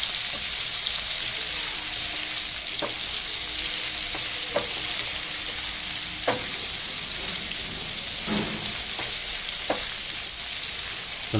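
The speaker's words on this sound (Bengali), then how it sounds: "পেঁয়াজটা একটু ভাজা হোক" Onions fry in oil along with rendered chicken fat while chicken liver masala is being cooked. The sizzle is a steady, close hiss, broken by occasional clicks and scrapes from stirring, and no one speaks.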